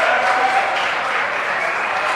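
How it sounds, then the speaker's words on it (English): Steady applause from a crowd at a UAE Premiership rugby semi-final between Dubai Exiles and Jebel Ali Dragons, watching from the clubhouse; a dense, continuous clapping wash at moderate distance with no voices standing out. "Good crowd up here this afternoon"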